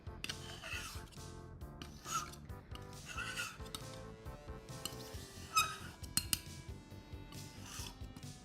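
A glass muller grinds handmade watercolor paint on a slab, making soft gritty rubbing and scraping strokes in an uneven rhythm with occasional light clinks, close and quiet with no talking.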